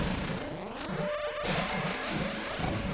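A clown car's engine revs in a platform video game, giving a wobbling, pitch-bending cartoonish whine with a bouncing rhythm. It sounds close and runs throughout the clip.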